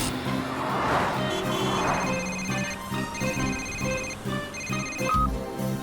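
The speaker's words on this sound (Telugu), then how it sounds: "ఫోన్ రింగ్ అవుతోంది" A phone rings in a Honey Bunny kids' cartoon, a steady repeating electronic ringtone pattern playing loudly throughout over a busy cartoon soundtrack.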